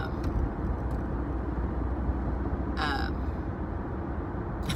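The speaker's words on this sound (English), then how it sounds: "that car was getting awfully close" A car passes close by, its engine rumble and tyre noise holding steady throughout, with a brief higher whine rising near the middle.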